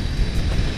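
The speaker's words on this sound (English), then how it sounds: "A lot of wind." Steady, roaring wind buffeting the microphone while riding a BMW R 18 motorcycle on a hot highway, a constant low rumble with no voices, like rushing air at highway speed.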